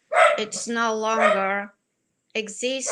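Small dogs bark in short yappy bursts near the microphone, mixed in with a woman's speech during a livestream, then fall quiet before more barking and talk.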